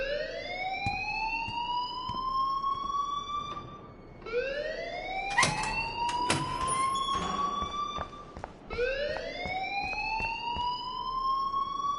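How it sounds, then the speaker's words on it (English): Electronic alarm in the video game Life is Strange, rising whooping wails that repeat about every four seconds, with sharp clattering knocks in between. "please turn off that alarm since that's your job"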